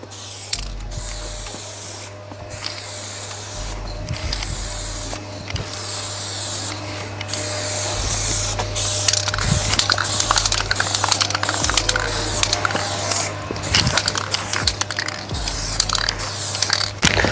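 Aerosol spray can applying a light tint coat to Vauxhall Corsa D rear lights: repeated close hissing bursts of spray with brief pauses between passes, over a steady low hum, and no talking.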